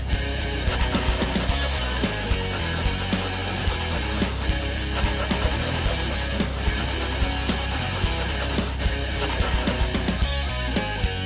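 A coin scratches steadily across a surface, giving continuous dense rubbing and scraping close up with rapid irregular strokes, loud and unbroken for about eleven seconds.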